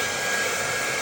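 A hair dryer blows hot air on a high setting, a steady, close, broadband whoosh with no talking.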